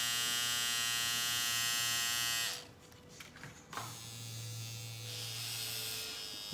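Tattoo machine used for scalp micropigmentation buzzing steadily and loudly for about two and a half seconds, cutting off, then restarting at a lower, steady hum.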